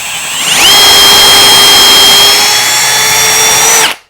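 A power drill bores a hole for a floating shelf peg, spinning up to one loud, steady whine that holds for about three seconds before it stops abruptly.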